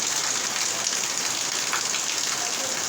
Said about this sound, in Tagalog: Kusog tayo ang ulan dinhi sa among dapit